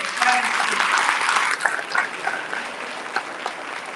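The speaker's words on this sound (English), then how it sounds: "let's give him another round of applause for the exciting speech" An audience at a university commencement ceremony claps steadily after a speech, a full round of applause that thins out into scattered claps toward the end.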